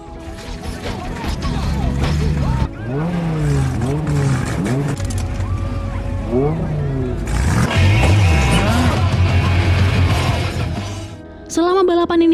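Race cars in a filmed street race roar and rev with sweeping engine pitch changes, tire squeals and mechanical clatter, loud and busy, with a sharp crash-like burst near the end and a narrator's voice over the action.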